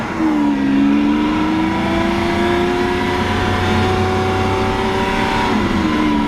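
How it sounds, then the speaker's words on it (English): Lamborghini Aventador Roadster Pirelli edition supercar driving, its engine a steady loud drone with rising and falling tones from start to finish, no talk. "So we're in the Lamborghini Aventador Roadster. This is the Pirelli edition."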